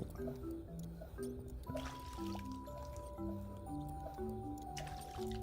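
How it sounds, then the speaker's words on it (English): Water being drawn in a video game, a series of soft squishy liquid bloops and drips playing over a busy stack of tonal game music notes, fairly quiet with no talking. "Guess I'm just drawing water."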